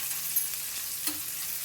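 Marinated squid sizzles steadily on a hot griddle in a continuous close hiss, with a couple of soft scraping taps as pieces are turned, and no talk.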